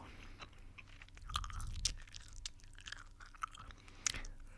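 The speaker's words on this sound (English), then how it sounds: "Just the most annoying type of gum chewing" Gum chewed right up against the microphone for ASMR: wet, irregular smacks and sharp clicks, intimate and moderately quiet, with no talking.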